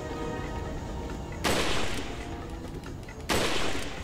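Two loud gunshots ring out in the Resident Evil 4 video game, about two seconds apart, each a sharp broadband crack with a lingering tail over steady game background noise.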